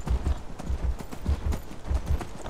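Horse hooves clip-clop steadily in the Skyrim video game, a fast repeating trot of close, moderately loud hoofbeats with no talk over them.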